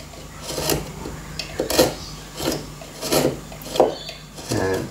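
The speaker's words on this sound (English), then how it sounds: "use your shearing action with the blade and just push it close to that edge" A knife blade shears along oak veneer edge banding, producing about seven short rasping scrapes in a steady rhythm, close and fairly quiet.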